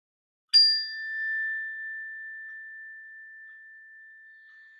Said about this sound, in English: when you hear the sound of the bell, just start by bringing your awareness to the breath